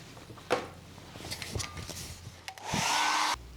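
A handheld hair dryer blasts a wet watercolor painting of a Paris street scene, a loud steady whoosh lasting under a second near the end, preceded by faint brush and paper sounds.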